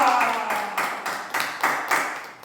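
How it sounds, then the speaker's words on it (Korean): A church congregation claps during a Sunday worship service. About eight quick, rhythmic claps land in an even beat inside a roomy hall, with no talking. "박수 한번 쳐줘요"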